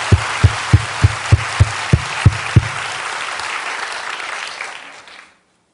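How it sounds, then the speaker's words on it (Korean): Church congregation applauding during a sermon, a full, sustained crowd clapping with a few strong rhythmic claps standing out near the start, holding steady for about five seconds before cutting off. "깨달은 대로 또 박수 치겠습니다"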